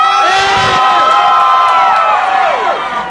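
Sold-out crowd at a live rap show in Philadelphia cheering and whooping, a loud, dense roar of many voices with shouted calls rising and falling, sustained throughout.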